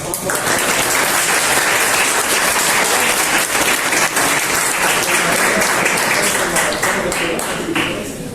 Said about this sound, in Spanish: Primero quisiera pedir un gran aplauso a